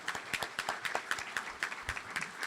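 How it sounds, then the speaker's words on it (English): Audience clapping at a Charlotte Rotary club meeting following a talk, sounding as a small, moderately loud round of applause with distinct individual claps close by. "Let's give Michael a round of applause."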